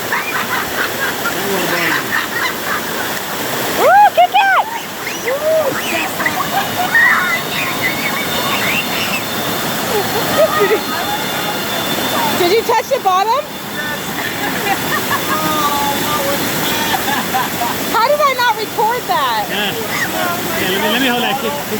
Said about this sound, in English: Kit Kat done brought us to a waterfall